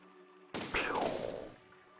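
Hidden weapons fire from a tractor combine in the Besiege game, heard as one sudden sharp blast with a quick crackling burst that fades over about a second, against a quiet background.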